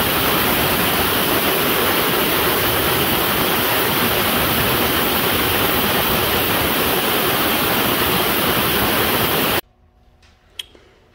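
A running ultrasonic cleaner filled with 30% vinegar, working on heavily rusted metal, gives a loud, steady, dense hiss that holds for about nine seconds, then cuts off, leaving near silence and a single faint click.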